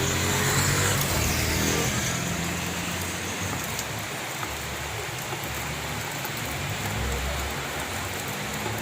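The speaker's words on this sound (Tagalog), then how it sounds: "Kusog na pong ulan." Heavy rain pours down steadily during a power outage, a dense, loud hiss that is strongest at the start and continues unbroken throughout.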